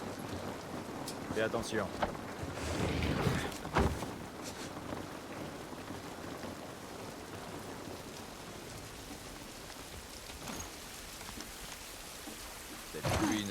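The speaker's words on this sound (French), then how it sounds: "Cette pluie ne va pas nous aider." Steady rain pours outdoors in The Last of Us Part I, a dense continuous hiss with scattered louder patters and thuds, while a voice speaks briefly over it.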